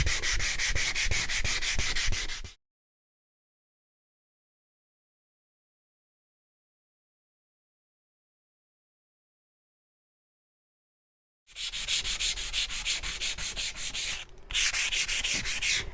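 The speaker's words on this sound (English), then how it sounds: "I have a lot of paint right in here that I want to kind of sand down" Paint is sanded off a wooden shiplap platter by hand, a loud close rasping scrub in two bursts separated by a long silent gap, with a brief pause inside the second burst.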